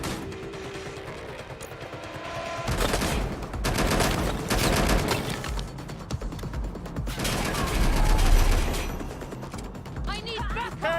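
Shotgun blasts and bursts of gunfire in Watch Dogs: Legion crack loudly in clusters among mechanical clatter, with game voices shouting in between.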